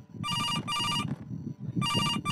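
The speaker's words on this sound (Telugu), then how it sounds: "Answer the phone." A telephone ringtone sounds loud and close in repeated bursts: two quick rings, a pause, then another ring, with a low murmur of background noise underneath and no talking.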